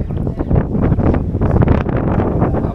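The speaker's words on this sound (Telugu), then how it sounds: "గాలి అయితే మాత్రం మామూలు లేదా" Strong wind gusting across the microphone at a scenic hilltop viewpoint, a loud continuous roaring buffet that swells and dips throughout, with no voices.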